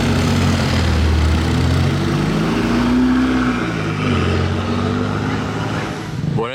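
A Ferrari Portofino engine idles and revs gently at close range, a steady deep rumble with slight rises and falls in pitch, heard near a Ferrari workshop, with no talking.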